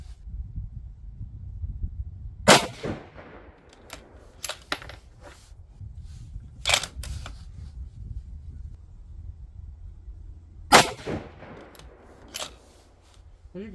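Three sharp rifle reports from a bench rest firing 90 grain TNT ammunition, each a loud crack with a short decaying tail, spaced several seconds apart over a quiet outdoor background.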